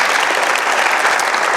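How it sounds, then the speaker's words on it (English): Brief burst of loud audience clapping at an economic symposium on artificial intelligence, many hands pattering densely and evenly without pause. "Clap for him."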